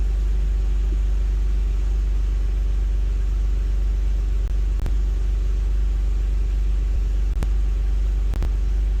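A Porsche engine idles nearby with a loud, steady low rumble and a constant drone, broken by a few brief clicks, and no voices.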